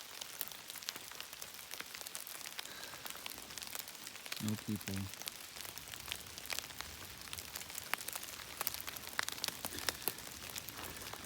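Light rain falling in mossy woods, a faint, steady scatter of drops pattering on leaves and ground, with soft crinkling and distant bird sounds, no talking.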